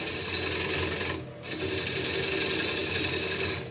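A gouge makes a peeling cut on the outside of a wooden bowl spinning on a lathe, a steady close rasping shear that breaks off briefly near the middle and then resumes.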